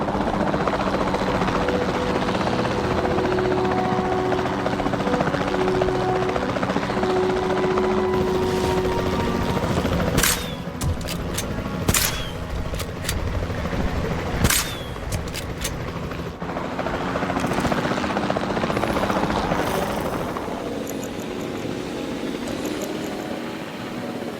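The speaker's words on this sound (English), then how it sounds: "We'll start by tranquilizing one of the dinosaurs from the helicopter" A helicopter in the video game Jurassic World Evolution 2 flies with a constant rotor thrum and engine drone, joined midway by sharp tranquilizer-gun shots and thuds, then fading slightly toward the end.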